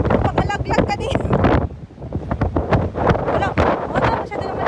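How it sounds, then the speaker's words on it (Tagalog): Strong wind buffets the microphone on the Seaford white cliffs in England, a steady roaring rush with gusty surges throughout, while people talk over it. "Yung hangin, nag-iba na ng landas."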